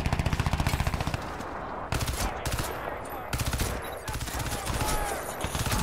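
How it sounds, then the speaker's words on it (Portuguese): Rapid automatic gunfire from the Crysis 2 video game played on Linux, loud bursts of machine-gun fire with short pauses between volleys, continuous through the scene. "os caras já chegaram atirando ali já"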